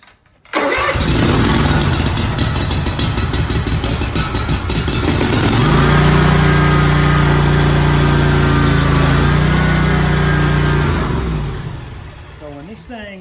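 A lawn mower engine is started on choke and settles into a loud, steady idle that runs for several seconds before winding down near the end.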